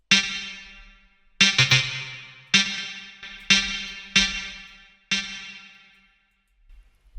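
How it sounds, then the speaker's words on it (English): Notes run through a reverb inside an Ableton Live 12 audio effect rack. Six separate struck tones sound alone, each ringing out into a long, smooth reverberant tail before the next one starts. "This is the reverb"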